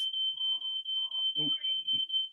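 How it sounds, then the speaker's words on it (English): A shrill, high-pitched smoke alarm sounds continuously in a pulsing pattern, with faint voices and movement underneath. "my smoke alarm is going off, but it's being taken care of."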